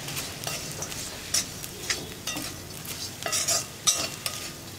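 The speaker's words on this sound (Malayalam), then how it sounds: "ഒരു മിനിറ്റ് ഒന്ന് നന്നായിട്ടൊന്ന് ഇളക്കി കൊടുക്കുക." A spoon steadily stirs fried fish in chilli masala in a pan, with scraping strokes repeating over a continuous sizzle. The sound is close and there is no talk.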